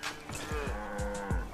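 Several cows moo in the video game Far Cry 5, with a few short, low, drawn-out calls that overlap at moderate distance over background game sound.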